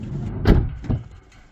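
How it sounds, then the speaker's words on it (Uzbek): Loose doors on a Hyundai Starex (H1) van with the interior trim panels removed rattle and knock: one strong thud followed by a second, lighter clunk, close up, with no voices. "Bu eshiklarimiz mana o'ynayapti."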